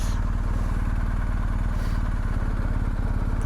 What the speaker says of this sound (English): I suspect that is Roger's bike.